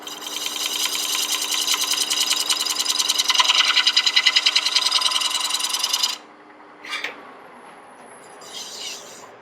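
A pointed 3/8-inch Sorby D-Way spindle gouge, used as a detail gouge, cuts a bead in spinning wood on a lathe with a steady, loud, rhythmically pulsing scrape that stops abruptly, followed by a couple of faint brief scrapes.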